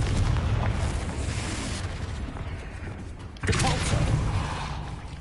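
A Confringo blasting spell explodes in Hogwarts Legacy, with a loud booming blast over rumbling combat noise, followed by a second sharp explosion partway through.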